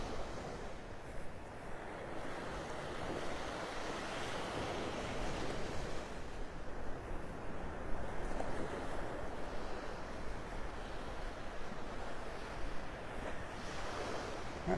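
Continuous rolling surf at Delnor-Wiggins beach in North Naples, Florida, a broad steady wash of waves with gentle swells and light wind buffeting the microphone, no voices.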